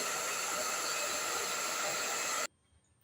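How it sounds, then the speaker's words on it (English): A hairdryer blows a loud, steady rushing hiss of air over a toy car, then cuts off abruptly, leaving quiet. "I will blow air on it using a hairdryer"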